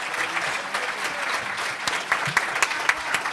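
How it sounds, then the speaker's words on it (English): Steady audience applause for a political conference panel, dense clapping filling the hall with a few sharper claps near the end. "So will you please give a round of applause for this outstanding panel here?"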